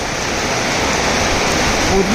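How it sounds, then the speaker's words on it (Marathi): Heavy rain pours down on the Udgir–Deglur road, a dense, steady, close roar of downpour with no break. "देगलूर रोडवर मुसळधार पाऊस बघा या ठिकाणी पडत आहे।"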